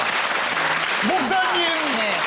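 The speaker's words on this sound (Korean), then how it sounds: "박수 한번 주세요" Studio audience applause on a Korean TV talk show, a broad steady wash of clapping throughout with a voice speaking over it.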